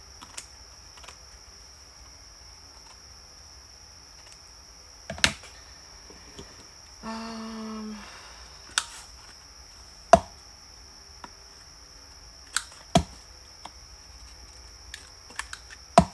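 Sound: scissors trimming paper

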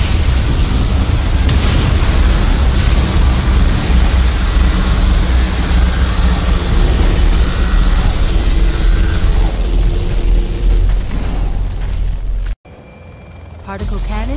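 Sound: particle cannon firing in video game C&C Generals Evolution

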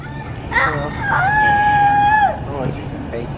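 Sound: toy rooster crowing

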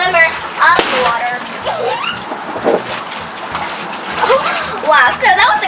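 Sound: splashing water in a pool

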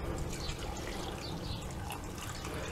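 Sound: water poured into a pan for cooking carrots

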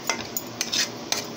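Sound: stirring dry spices in a pan for veg roll masala

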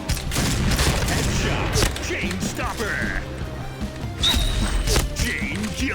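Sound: sniper rifle gunshot in Point Blank video game

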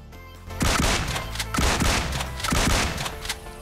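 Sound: DBS shotgun firing in BGMI video game

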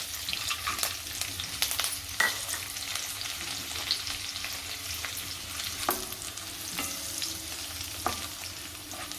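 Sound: green chillies and dry fruits frying in a pan

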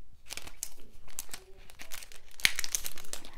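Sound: plastic mini folder being handled and opened

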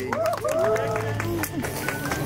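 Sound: crowd applause for second-place rally crew

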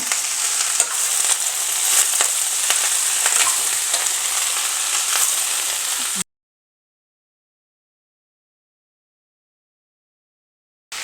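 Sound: garlic and onion frying in oil

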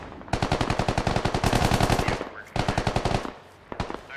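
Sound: gunfire from a BMP in the video game Squad

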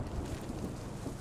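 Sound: Sherman tank moving, from video game Post Scriptum

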